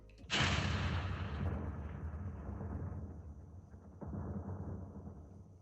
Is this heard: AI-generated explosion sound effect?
yes